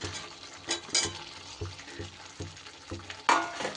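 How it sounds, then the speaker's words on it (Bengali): Fried potatoes go into a pan of spice masala and are stirred, giving a close, uneven series of scrapes and soft thuds over a light sizzle, with one sharper clatter near the end and no talk. "এইবার এই পর্যায়ে আমি এখানে ভেজে রাখা আলুগুলো দিয়ে"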